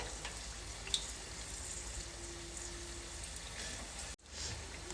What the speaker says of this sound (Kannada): ಮೆಣಸಿನ್ಕಾಯಿನೂ ಸಹ ಚೆನ್ನಾಗಿ ಫ್ರೈ ಆಗುತ್ತೆ